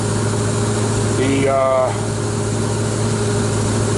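Volvo Penta marine engine idling in a steady, continuous hum, with a brief tonal whine partway through and a voice speaking over it.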